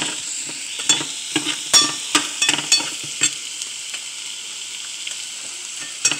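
Chicken sizzles in a pan with just a little oil and a Maggi cube, a steady frying hiss broken by sharp clatters and scrapes of stirring close by.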